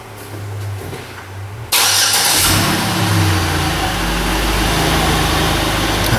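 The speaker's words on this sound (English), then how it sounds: "I'm gonna go ahead and start this car up." A Chevy Impala with EVAP trouble codes P0446 and P0451 cranks and fires up abruptly after a quiet moment, then settles into a loud, steady idle close by.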